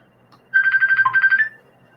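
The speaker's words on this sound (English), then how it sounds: "I had to stop for a phone call" A phone rings with an incoming call, one bright, warbling electronic ringtone burst lasting about a second, clear and close in an otherwise quiet room.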